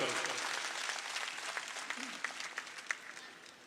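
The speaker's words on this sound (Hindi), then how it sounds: "जोरदार ताली से आशुतोष का स्वागत करो।" Audience applause at a political campaign rally welcoming a candidate, a dense wash of clapping that holds steady and then thins toward the end, with a few sharper individual claps.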